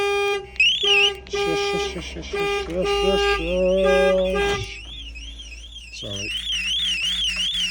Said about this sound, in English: that's just me setting the alarm off